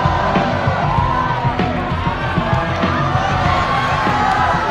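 A crowd cheers and whoops loudly, with shouts and a steady roar of excitement filling the space at close range.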